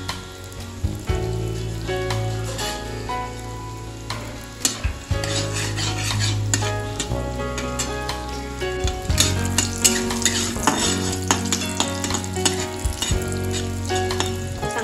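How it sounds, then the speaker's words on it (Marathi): Dry fruits roast in ghee for sweet semolina sheera, a close, continuous sizzle with scraping stirs against the pan and occasional utensil clinks, no voices. "थोडेसे ड्राय फ्रुट्स तुपातच आपल्याला भाजून घ्यायचे"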